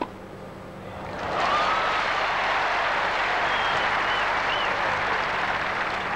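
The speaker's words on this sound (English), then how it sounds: "The crowd really trying to pull him on, Mike." Tennis crowd at the 1977 Australian Open final applauding and cheering, with sustained broadband clapping that swells after a quiet start and holds steady and loud to the end, with no talk over it.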